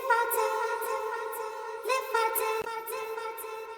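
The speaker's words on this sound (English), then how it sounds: "This is the vocal. It's actually a long vocal loop." A long sampled vocal loop from a sample pack, pitched 600 cents off its original, sings sustained harmonic tones with rhythmic breathy accents recurring about every half second, steady and close, no talking.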